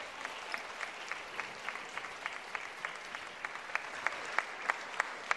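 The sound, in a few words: audience applause at sports awards ceremony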